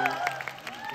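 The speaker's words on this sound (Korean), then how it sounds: "이렇게 막 박수 많이 쳐주시고 그래요" An audience claps at a movie stage greeting in a cinema theater, a brief burst of crowd applause heard at moderate distance, mixed with some voice.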